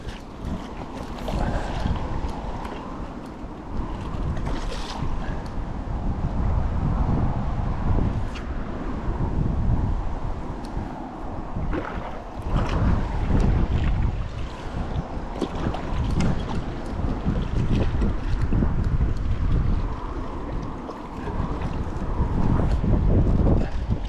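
Strong wind gusts across the River Severn at Shrewsbury in summer, a steady loud rush and buffeting on the microphone with water lapping, continuous and close throughout with no talk.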